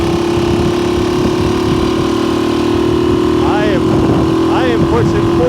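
A motorcycle engine drones loudly and steadily at speed, well over a low speed limit, with pitch sweeps as the rider shifts or accelerates, and a voice speaks over it.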